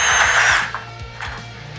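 A Milwaukee power drill fitted with a magnetic nut setter drives a fastener home in a short, loud whirring burst that cuts off after about half a second, followed by quieter mechanical clicks.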